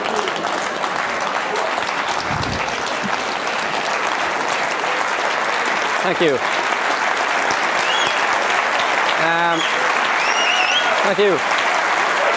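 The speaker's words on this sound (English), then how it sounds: "give her a round of applause" Audience applause at a magic show fills the room steadily for about twelve seconds, dense and sustained, while someone speaks briefly over it near the end.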